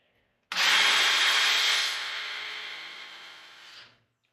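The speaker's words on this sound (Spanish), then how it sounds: "Vamos a hacer un par de perforaciones para ingresar unos taruguillos para que quede tapado." A power drill bores into wood for dowel holes while building a wooden press for patacones and tortillas, one steady loud whir of about three seconds that starts abruptly and slowly eases before stopping.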